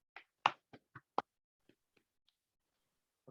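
A short smattering of hand claps for a student's presentation in an online class, about five sharp claps in quick succession from a few people, then a few faint scattered claps trailing off.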